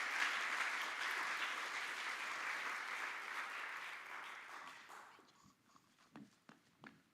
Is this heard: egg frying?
no